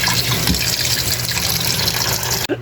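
Water runs and pours steadily as it is drained off pieces of broken-size pork meat, a close continuous gushing splash that cuts off abruptly near the end.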